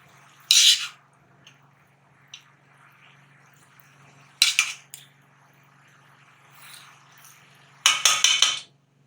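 A serving spoon clinks and scrapes against a metal pot and dish while moong dal methi curry is dished out: three separate bursts of bright metallic clatter, close and loud, with quiet gaps between.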